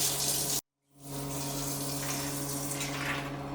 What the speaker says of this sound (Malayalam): ഇത് കുറച്ച് വെള്ളം ഒഴിക്കുക എന്നിട്ട് ശരിക്കും അങ്ങനെ തിളപ്പിക്കുക